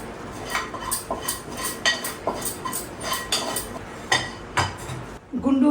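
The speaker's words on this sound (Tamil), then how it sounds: "அப்படியே மொத்தத்தையும் ஒரு பவுலுக்கு மாற்றிடுறேன்." Guntur masala chicken fry is scooped from a metal pan into a bowl, a series of sharp, rhythmic metallic scrapes and clinks of a spoon, close and loud, with no talk.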